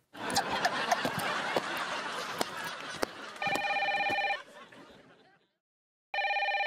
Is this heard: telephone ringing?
yes